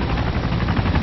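Helicopter in a shooting video game gives a continuous low rotor thrum and engine roar, close and steady throughout the short moment.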